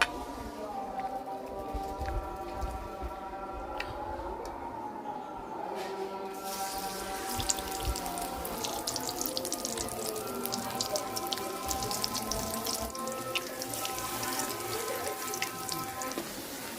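Fritters of grated radish sizzle and crackle steadily in hot oil, a dense, spattering fry that carries on the whole time and grows slightly brighter and louder partway through, with no voices.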